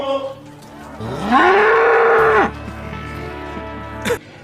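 A buffalo gives one long, loud, drawn-out moo close by, rising and holding steady before dropping off, with a low farm background around it.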